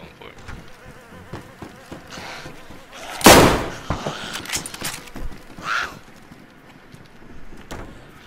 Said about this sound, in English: I just ran in there and sniped one of them.